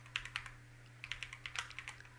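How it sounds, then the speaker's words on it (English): Typing on a computer keyboard while building a material in Unreal Engine 5.5: a few quiet, close key clicks, then a quicker run of light taps, with a faint steady hum underneath. "press 3 and left click on the keyboard"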